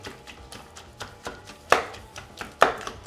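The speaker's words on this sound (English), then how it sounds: "take a back of a wooden spoon, and we're gonna just mash everything" Blackberries, lime, mint and jalapenos pressed with the back of a wooden spoon in a bowl: a rhythmic series of soft thuds and squishy knocks, with two louder hits, close up.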